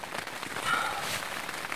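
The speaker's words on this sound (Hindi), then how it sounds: "बारिश की आवाज़ आ रही होगी आपको" Steady heavy rain hissing down over a surface during a rainstorm, a dense broadband wash with no clear individual drops, moderately loud and continuous.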